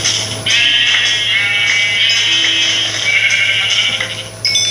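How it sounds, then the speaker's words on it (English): Sheep in the video game Minecraft bleat loudly and continuously, overlapping wavering baas held for several seconds, close and clear with no talking. "Oh, I need those sheep for making a bed."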